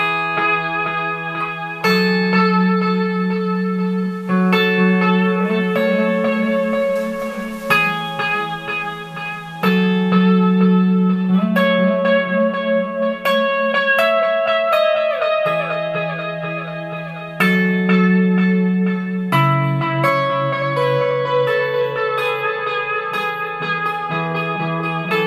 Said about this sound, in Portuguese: eu uso muito como se fosse um shimmer junto com o reverb